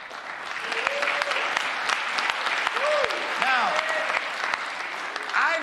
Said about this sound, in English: Let's applaud the women that have had children